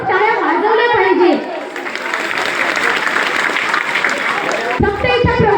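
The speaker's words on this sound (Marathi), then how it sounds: "त्याबद्दल खूप खूप सर्वांनी मन भरून टाळ्या वाजवल्या पाहिजे." Crowd clapping at a school educational event, a broad steady ovation filling the middle stretch, framed by someone speaking into a microphone before and after it.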